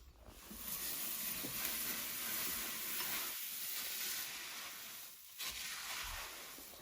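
Rice Krispies cereal stirred into poured melted marshmallows, a continuous crackling, hissing rustle with brief pauses between strokes, close and fairly quiet.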